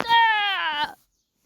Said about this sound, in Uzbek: Yana bitta tovuq.